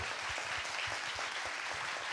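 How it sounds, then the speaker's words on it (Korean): A talk-show audience claps on the host's cue, a continuous, fairly loud wash of applause with a few distinct hand claps standing out near the front. "박수 한번 주세요"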